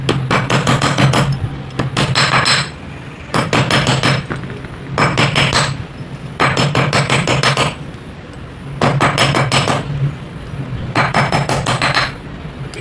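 Rapid bursts of metal hammering on the tabs holding a Cosmos donut-model fan bushing, clustered in roughly one-second volleys of close, sharp taps separated by short pauses, repeated about six times.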